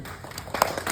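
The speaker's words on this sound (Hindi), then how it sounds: "जोरदार तालियों से" A retirement celebration audience claps in a brief burst of scattered, close applause, with individual hand claps rising toward the end.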